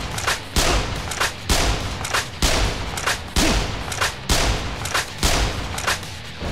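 Rapid gunfire in the video game Yakuza: Dead Souls, a steady run of about a dozen loud, sharp shots at roughly half-second intervals, each with a short booming tail, and no voices.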